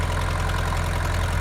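A tractor engine idles steadily while warming up after sitting unused for ten days and starting with difficulty, a continuous close low rumble with an even, slightly knocking pulse.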